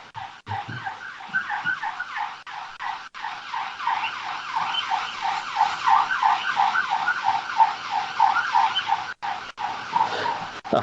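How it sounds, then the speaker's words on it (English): A wailing emergency siren with a steady rising-and-falling pattern, loud and sustained throughout as a vehicle passes close by. "We're just waiting for the ambulance to go by."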